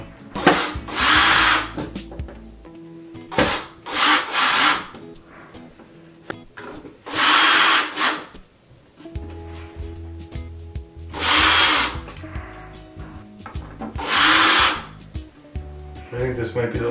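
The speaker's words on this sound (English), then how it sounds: "I'm gonna screw the board back in now and hope it works" A power screwdriver drives screws back into a Vizio P Series TV's power supply board, sounding in repeated short whirring bursts with pauses between them, while a person talks throughout.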